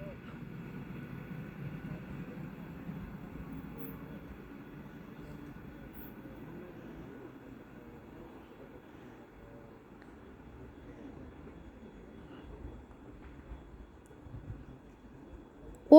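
A train passing through Perkhushkovo station, a low steady rumble and rolling drone at moderate distance that slowly fades, ending in a sudden short burst.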